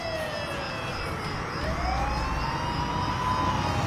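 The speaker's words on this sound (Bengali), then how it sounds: "একটা পুলিশের গাড়ি এসে থামে বাড়ির সামনে" A police car siren wails steadily, its tone sweeping up and down over a constant low engine rumble. It sounds moderately loud and gets a little louder toward the end, as if the car is arriving. No voices are heard.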